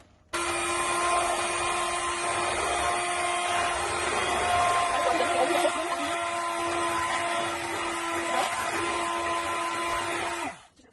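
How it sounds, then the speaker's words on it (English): An electric hand mixer blends chocolate cake batter in a bowl, a steady, continuous motor whine that runs close and loud for about ten seconds before switching off. "And now with a hand mixer, I blend all of this together."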